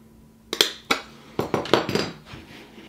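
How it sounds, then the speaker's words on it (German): A handheld craft punch cutting through paper: a handful of sharp, close metallic clicks and clacks in quick irregular succession over a quiet background. "Hier in etwa in der Mitte stanze ich das"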